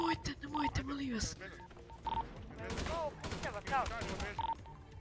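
Video-game gunfire from a hostage robbery mission comes in short bursts of rapid shots, mixed with beeping tones. Players talk loudly over the shooting.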